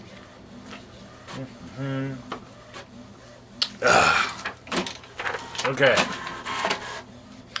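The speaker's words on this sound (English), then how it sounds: "Forgive the printer sounds." An office printer runs in bursts near the microphone, with mechanical whirring and clattering passes that rise loud mid-clip, while someone talks over it and says a brief word.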